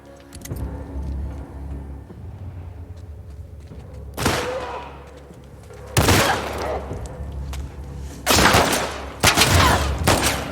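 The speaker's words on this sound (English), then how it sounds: "I'm pretty sure every single one of those shots missed" Gunfire in the video game The Last of Us Part II, several loud, sharp shots and bursts spaced a couple of seconds apart, ringing out over a low rumbling background.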